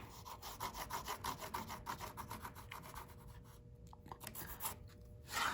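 Pencil rubbing steadily across a wooden cheese board while marking a cut line, a close, quiet scratching in short repeated strokes, with a brief louder rasp at the end.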